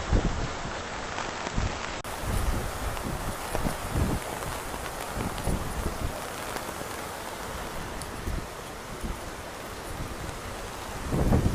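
Heavy rain pours down at Ground Zero in New York City, a dense, continuous hiss of drops on surfaces with occasional gusts and low rumbles, steady and close throughout without speech.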